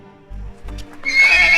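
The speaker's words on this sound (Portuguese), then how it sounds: "os cavalos que estavam no estábulo ficaram muito agitados, relinchando e correndo para lá e para cá como loucos." Agitated horses in a stable neigh and whinny in short, loud bursts, with low snorting pulses and some hoof clatter close by.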